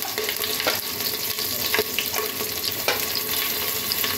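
Hot oil sizzles as a tempering of slit green chillies, black pepper and black cardamom crackles in the pan, with a steady frying hiss and a few sharp pops close by.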